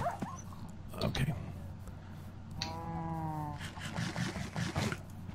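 Dogs in a Minecraft UHC match, with short yelps and a sustained whining game tone, mixed with scattered clicks and game effects at moderate level.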